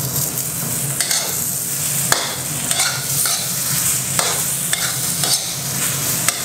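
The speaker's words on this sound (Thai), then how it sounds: "พอไข่เริ่มเป็นครีมนะครับเพื่อนๆก็ใส่แตงกวาลงไป" Cucumber being stir-fried with creamy scrambled egg and garlic in a pan, a steady close sizzle under repeated scraping and stirring strokes, with no talking.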